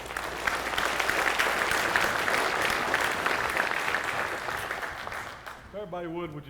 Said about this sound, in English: I'll give Colton Baker a big round of applause.